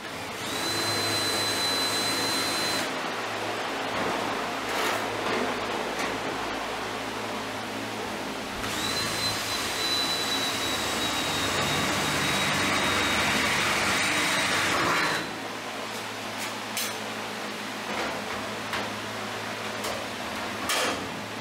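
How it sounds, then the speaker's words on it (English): Zip cutoff wheel slicing through rusty metal: a loud, steady high-pitched grinding whine in two long bursts, each ending abruptly, with a spinning-down hum between them. "I'm going to take the zip cutoff wheel and do a cut and butt right there"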